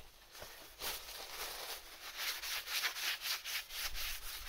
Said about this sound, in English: You need to clean the disc, because it's some dust when you buy a disc.